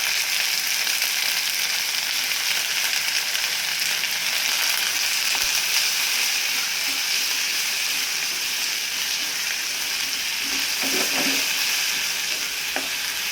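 Vegetables and tomato sautéing in a pan for dal, a loud, steady close-up sizzle throughout with scraping stirs and a few light clinks toward the end.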